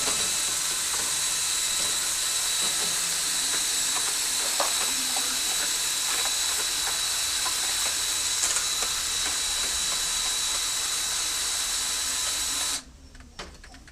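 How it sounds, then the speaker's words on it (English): An electric Black & Decker drill fitted with a whisk churns pudding mix outdoors, giving a steady, close motor whine with a rattling hiss that runs almost throughout before stopping abruptly near the end. "the mixing process is where my Black & Decker and the whisk come into play"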